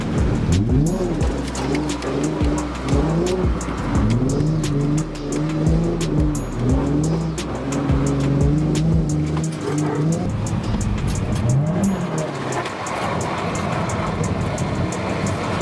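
A car engine revs repeatedly in rising and falling surges, loud and close, with tire noise, then drops away toward the end.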